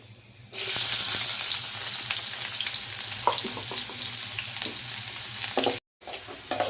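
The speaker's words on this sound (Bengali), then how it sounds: "এবার পেঁয়াজটা দিয়ে একটু লাল করি।" Onions frying in oil in a wok, a loud sustained sizzle with stirring scrapes, broken by a brief silence near the end before the frying resumes.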